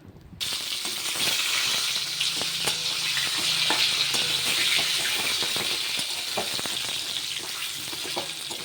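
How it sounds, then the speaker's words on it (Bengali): Half-cooked potatoes frying in hot oil in a wok give a steady, loud sizzle lasting throughout, with scattered small pops and crackles, and no voices. "সেই আলুটাও এই তেলটাতেই দিয়ে দেবো আর ওটাকেও হালকা করে ভেজে নেব।"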